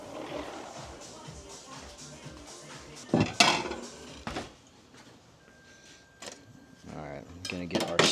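Pans and metal utensils clank and clatter in loud bursts while cooking French toast on a Blackstone griddle outdoors, with quieter handling noises and a voice talking in between.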